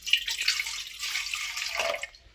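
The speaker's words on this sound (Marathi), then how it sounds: "1 ग्लास पाणी ह्याच्यामध्ये पातेल्यात" A glass of water pours into a cooking pot for dhokla, a steady splashing trickle for about two seconds that fades out at the end, close and alone with no talk.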